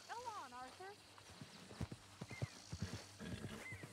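A horse in the Red Dead Redemption 2 video game lets out a wavering neigh, followed by scattered clip-clopping hoofbeats, with a person talking over parts of it.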